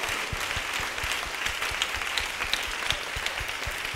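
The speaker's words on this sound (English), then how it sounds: "Clap for Jesus." Steady applause from a church congregation, a continuous patter of many hands clapping with a few sharper individual claps standing out.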